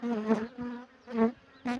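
Honey bees on a brood frame, being moved into a weak hive, buzz loudly and close up in a steady droning hum that swells and dips in short pulses.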